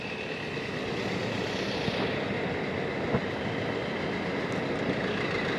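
Steady train rumble at a railway station in Guwahati, with a continuous low roar and faint clattering, loud and unbroken throughout with no voices.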